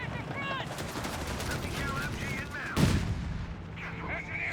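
Gunfire and an M1 anti-tank gun in a Company of Heroes 3 battle, heard as steady crackling small-arms fire under a commentator's voice, with one heavier booming shot near the middle.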